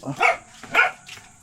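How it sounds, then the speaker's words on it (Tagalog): A dog gives two sharp barks followed by a softer yip, close and clear, with no talking, during a boat trip. "pababa mo yung aso"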